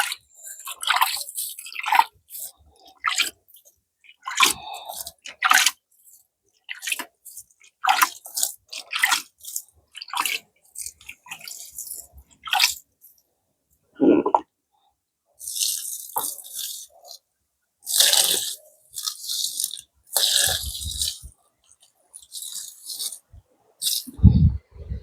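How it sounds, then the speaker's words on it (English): Water poured over grass clippings and leaves in a compost trash bin at home, heard as irregular wet splashes, crackles and patters close by, coming in uneven bursts with brief pauses and no talking. "I'm going to get some water and I'm going to water this in."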